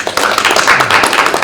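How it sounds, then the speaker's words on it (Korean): Audience members at a roundtable forum on the future of party democracy give a speaker a welcoming round of applause, a loud, dense and steady wash of many hands clapping close by. "이숙종 원장님을 큰 박수로 맞이해 주시기 바랍니다."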